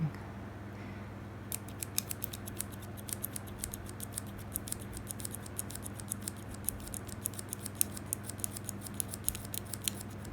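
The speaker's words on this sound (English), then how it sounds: "just start cutting very, very, very fine little tiny slits in it and rotating this straw as you're going" Scissors snip very fine slits in a plastic straw, making a fast, steady run of small crisp clicks over a low constant hum, with no talking.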